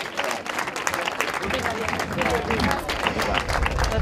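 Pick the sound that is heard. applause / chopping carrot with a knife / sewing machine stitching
applause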